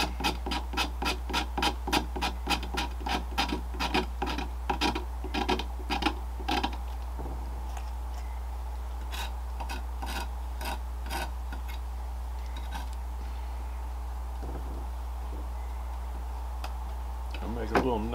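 A guitar pick is shaved with quick, rhythmic scraping strokes, close and crisp at first, then thinning into sparser scrapes over a faint background hum.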